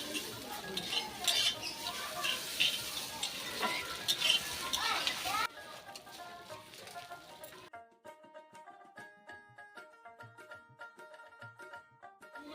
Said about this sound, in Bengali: ডিমগুলো দিয়ে দিচ্ছি, ভেজে নেবো।